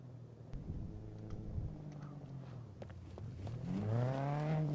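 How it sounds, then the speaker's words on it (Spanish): A car engine in a video game revs up, its rising, droning tone swelling loud near the end after a quieter stretch of low engine hum. "Suena coche."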